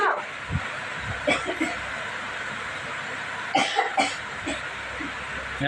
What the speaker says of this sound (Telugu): దగ్గుతున్నావు బావా